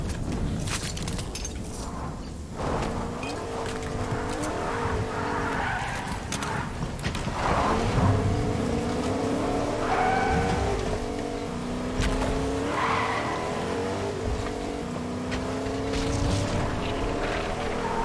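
Video game car driving and skidding, with a steady engine drone and repeated tyre screeches and impacts over a continuous roar, fairly loud throughout with no clear talking.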